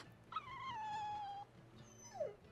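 A dog whimpers in the Tales of Berseria video game: one long, high, wavering whine, then a brief pause and a shorter whimper that slides downward. No one talks over it.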